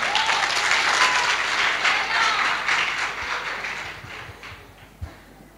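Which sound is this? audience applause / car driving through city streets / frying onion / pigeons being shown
audience applause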